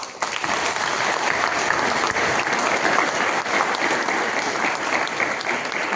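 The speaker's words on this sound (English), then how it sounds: "Let us give them a round of applause." A crowd applauds the Assam Rifles and armed forces at a memorial football tournament poster and theme song release, dense sustained clapping that stays loud and even throughout.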